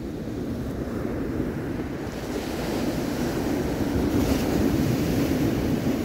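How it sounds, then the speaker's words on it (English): Big ocean waves pounding a Southern California beach, a steady loud roar of surf with wind buffeting the microphone, swelling slightly stronger in the second half, with no voices. "Love watching the waves."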